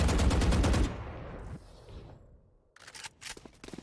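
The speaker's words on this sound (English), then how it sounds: "Kaboose is going to spray the door to get some of these frags" In a Valorant match a rapid, loud burst of automatic gunfire sprays a door, then cuts off and gives way to quieter scattered game sounds and a few later sharp shots.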